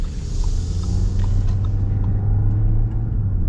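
Interior of a 2025 Audi Q7 with the entry-level powertrain driving and accelerating, a steady low engine and road rumble filling the cabin throughout, with no talk.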